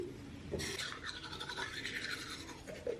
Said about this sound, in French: Alors on va commencer par se laver les dents.